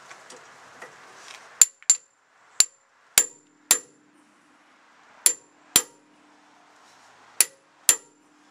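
Sharp metallic hammer strikes with a small hammer on the parking brake of a Mercedes Vito 110 TD, about ten close, loud blows in irregular bursts with quiet gaps between them.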